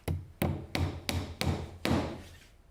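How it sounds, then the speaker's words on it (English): Six sharp hammer blows ring out in an even rhythm, each driving a plastic cable clip with a metal nail into a wooden joist, close and solid with short decaying thuds. "each clip is hammered into place one by one"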